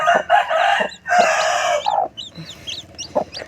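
A brooding native hen clucks and crows loudly in close, repeated calls, with softer chick-like peeps and short clucks trailing off between them.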